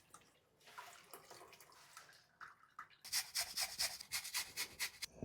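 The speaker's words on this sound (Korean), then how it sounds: "아까 만들어놨던 소스를 이제 체에 걸러주세요" Sauce for Korean cold soba noodles is strained through a sieve, with soft trickling and wet rubbing that grows into a quick run of louder liquid splashes near the end, close up and without speech.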